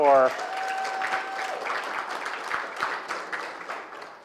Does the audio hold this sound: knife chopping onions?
no